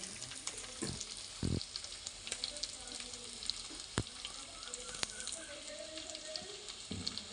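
Bitter gourds (karela) frying in oil in a pan give a steady close sizzle, broken by occasional clinks and scraping stirs of a utensil.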